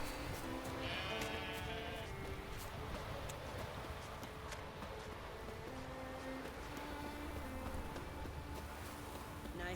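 Sheep bleat a few times at a moderate distance in the video game Witcher 3, over a continuous busy background with faint ticking.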